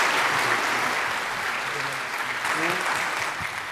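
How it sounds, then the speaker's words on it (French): A lecture-hall audience gives François Bousquet a warm, sustained round of applause, thick and even clapping from many people, with a voice briefly audible near the end. "François Bousquet, merci de l'applaudir"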